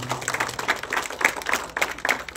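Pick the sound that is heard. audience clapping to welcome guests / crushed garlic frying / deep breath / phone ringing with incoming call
audience clapping to welcome guests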